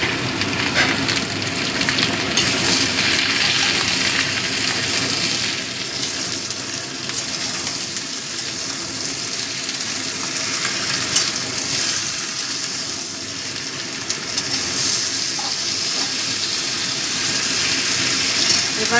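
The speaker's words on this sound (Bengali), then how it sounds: "আলু পেঁয়াজটা ভালো মতো ভাজা হয়ে গেছে, এবার আমি দিয়ে দিচ্ছি কেটে রাখা টমেটোগুলো" Chopped tomatoes go into a pan of frying potatoes and onions for a crab curry, setting off a loud, steady sizzle and hiss that carries on close up for the whole stretch.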